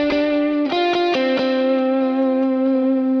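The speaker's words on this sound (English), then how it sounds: "new thing that's happening here, is this lead guitar" A lead electric guitar, only partly distorted, played through an Archetype amp plugin, rings out sustained notes with a few clear pick attacks and slides, solo and up close with a smooth, effected tone.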